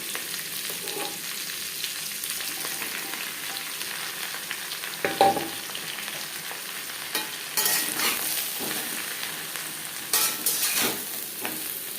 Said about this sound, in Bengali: জিরে লঙ্কা ভেজে নেওয়ার পর দিয়ে দেবো লঙ্কা